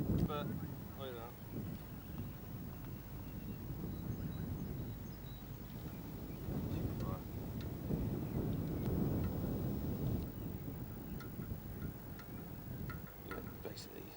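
Wind blows outdoors at a bunting world record attempt as steady, low rumbling buffeting across the microphone, with people talking faintly beneath it.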